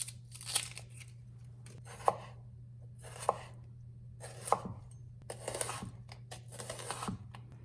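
A knife chops a red onion on a board in sharp, separate taps, about five in all, spread unevenly over a low steady hum. The chopping is quiet and close, with no talk.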